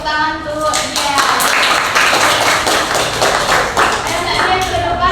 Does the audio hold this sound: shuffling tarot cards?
no